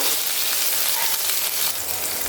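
Green chillies sauté over potatoes in a hot pan for sabudana khichdi, giving a steady, close, broadband sizzle that runs unbroken and fairly loud throughout, with no voices.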